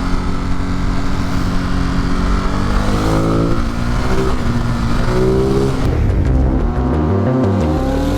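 A car drives past close by, its engine rumbling and rising in a steady, loud roar that swells and then fades away, with no talking.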